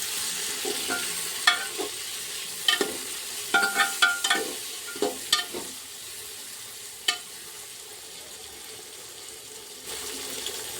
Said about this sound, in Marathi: आता टाकून दिला आपण टमाटर हलवून घेऊ आपण।